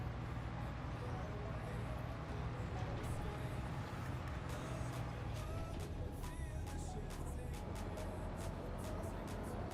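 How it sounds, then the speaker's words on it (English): A big military truck in the video game Arma Reforger pushes through trees, its engine a steady, loud, low rumble that runs unbroken throughout, with occasional crackles and knocks from the brush on top. "So we'll just casually drive our big truck through these trees and try not to crash into anything."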